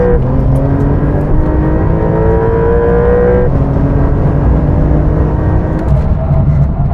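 A 385hp Porsche 911 launches hard and accelerates, its loud engine note rising steadily with two distinct gear-shift drops.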